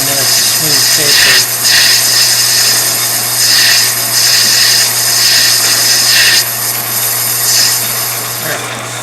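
Metal lathe cutting a smooth taper on a small engine greaser part, a loud steady motor hum with hissing, scraping cutter passes rising and falling over it, while a person talks.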